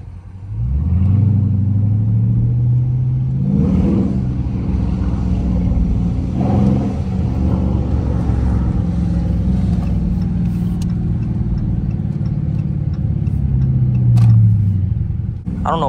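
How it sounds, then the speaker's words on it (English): Cars and engines rumble past continuously in heavy road traffic, one vehicle after another, loud and close, with occasional revving swells. "I don't know why there's so much traffic right now"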